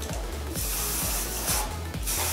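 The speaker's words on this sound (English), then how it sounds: "So I'm just going to lightly spray over." Hairspray hisses in a steady continuous spray, close and fairly quiet, with brief faint clicks and pauses as the nozzle is pressed again.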